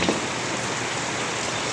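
Heavy rain pours down outside a small shop, a dense, steady hiss of water drumming on surfaces that stays loud and unbroken throughout, with no voices.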